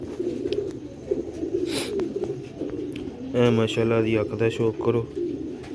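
Sialkoti Ali wala breeder pigeons cooing in a loft, a steady low rolling coo throughout that swells louder midway, with someone talking over it.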